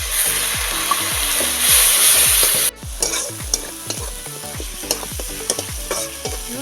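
Water poured into chilli and turmeric spice paste frying in oil, a loud close burst of hissing sizzle that cuts off abruptly, followed by rhythmic scraping strokes of a spoon stirring the pan.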